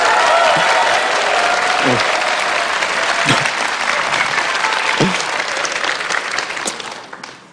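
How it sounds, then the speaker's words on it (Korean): Loud, sustained applause from a lecture-hall audience, a steady roar of many hands clapping that holds for several seconds before fading, with a brief spoken acknowledgment over it. "여러분들께서 뜨거운 박수 한번 주시면"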